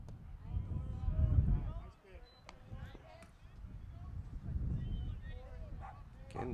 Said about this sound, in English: the distance you can hear a barking dog as well.